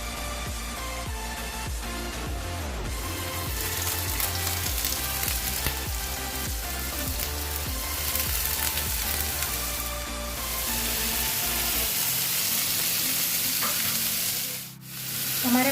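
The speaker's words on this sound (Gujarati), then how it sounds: "એટલી વારમાં હું આ પનીરને સેલો ફ્રાય કરી લઈશ" Paneer shallow frying in oil in a pan, a dense continuous sizzle with scattered pops and crackles, loud and close, steady throughout with a short dip near the end.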